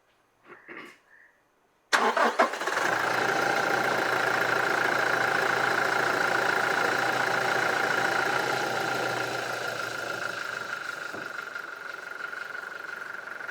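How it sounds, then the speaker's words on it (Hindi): A diesel car with a diesel particulate filter under troubleshooting cranks briefly, fires up and settles into a steady, loud idle close by, holding an even hum to the end. "इंजन स्टार्ट करो ना भाई"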